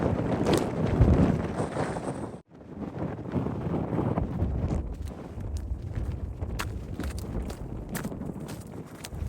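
Strong outdoor wind batters the microphone with loud, gusting rumble that drops out briefly, then returns in buffeting bursts on an exposed coastal walk.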